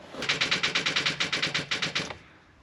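A 2001 Nissan Pathfinder R50 engine cranking on a dead battery: a rapid, even chattering of about fifteen clicks in two seconds, loud and close, then it stops and falls silent.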